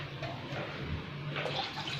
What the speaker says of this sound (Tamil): அவ்வளோ வாட்டர் நான் இப்போ போடுறேன்